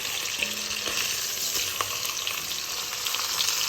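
Ossobuco pieces browning in butter after being turned, a loud, dense, continuous frying hiss heard close up, steady throughout with no voices.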